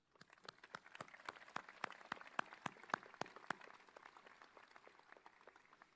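A few people at a commencement ceremony clap in a steady rhythm, sounding faint and somewhat distant, with the claps tapering off toward the end.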